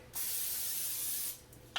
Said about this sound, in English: I'm actually going to turn it off first and give it a little bit of a spray.